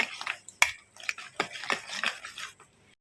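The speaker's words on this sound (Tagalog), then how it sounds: "then mix it well" A utensil stirring and scraping through a pudding mixture of leftover bread in a bowl, a quick irregular series of clinks and wet scrapes, close and alone.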